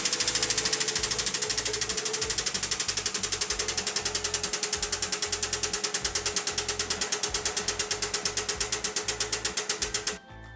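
A hydraulic pump drives the ramp of a pipe bender with a rapid, even mechanical clicking and ratcheting pulse. It holds a steady rhythm for about ten seconds before cutting off abruptly, with no speech.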